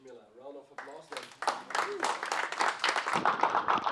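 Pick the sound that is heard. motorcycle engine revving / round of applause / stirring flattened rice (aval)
round of applause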